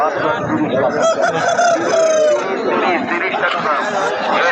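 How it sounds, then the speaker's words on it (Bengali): A red local desi rooster at a busy village market crows loudly and close by, with clucking fowl and people chattering all around. "এখানে একটা আছে লাল কালার দেশি মুরগ"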